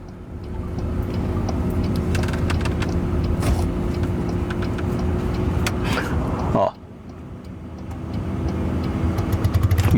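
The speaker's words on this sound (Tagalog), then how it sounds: "Papaanda rin na nila yung kubota." Outdoors, a Kubota engine is pull-started and then runs with a loud, continuous close rumble. Voices talk over it, and the sound drops sharply for a moment before it builds again.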